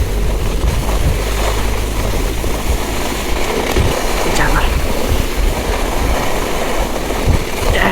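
Strong wind roars during a snowstorm, a loud, continuous rumbling rush that buffets close by and stays constant throughout.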